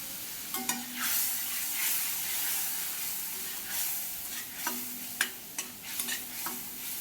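Spice paste mixed in water and green chillies sizzle in a frying pan for an eggplant dish, a continuous hissing fry broken by scraping stirs and soft clinks, close up.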